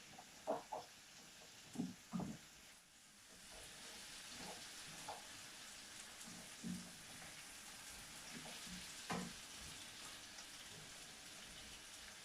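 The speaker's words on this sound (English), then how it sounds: "Let's get back to stirring my veggies." Vegetables for Hellshire-style steamed fish and okra fry quietly in a pot under a faint steady sizzle, broken by soft irregular knocks and scrapes of stirring.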